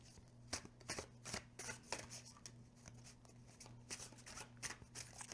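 A new deck of 330 GSM cards being shuffled close up, a quick run of soft riffling flicks at a low level over a faint steady hum.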